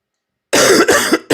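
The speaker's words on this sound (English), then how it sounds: "I need to like finally kick this cough" A man coughing close to the microphone, three harsh coughs in quick succession after a moment of silence.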